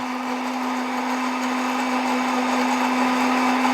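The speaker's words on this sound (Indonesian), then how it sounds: "Anggur yang sudah dipotong-potong ini baru kita blender bersama dengan bawang putih." A kitchen blender runs steadily, chopping grapes together with garlic cloves, a loud, even motor whine with a constant pitch and no voices over it.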